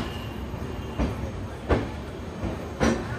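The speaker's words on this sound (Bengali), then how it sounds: "আমাদের দেখো কত সুন্দর কলকাতা স্টেশন থেকে ডিপার্ট হয়ে গেল।" A passenger train pulling out of Kolkata station rolls along with a steady low rumble. Three sharp rail clacks rise above it at intervals, heard close from inside the carriage.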